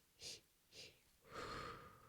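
Deep rhythmic breathing as a labor-preparation exercise: two short, airy inhalations followed by a longer, louder exhalation, close and alone, with no talk.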